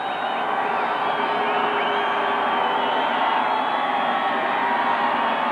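A football stadium crowd at a Utes game keeps up a broad, steady roar of cheering and whooping, dense and fairly loud, with a faint voice mixed in.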